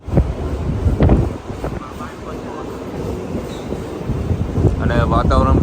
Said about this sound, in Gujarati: મસ્ત અને ઠંડો ઠંડો પવન આવી ગયો છે